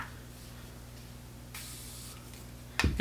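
A spray bottle mists a Morphe M224 makeup brush in a short hiss of about a second in the middle of a quiet room, followed by a sharp close clatter at the end.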